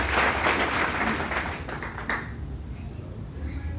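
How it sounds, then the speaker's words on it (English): An audience claps together in a dense, steady burst of applause that fades over a few seconds into quieter room noise. "Let us clap for him."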